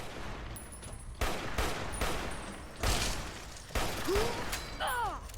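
Bursts of machine gun fire from a game weapon in Fallout: New Vegas during a fight against Cazadors, several loud broadband volleys a second or so apart, with short whining effects near the end.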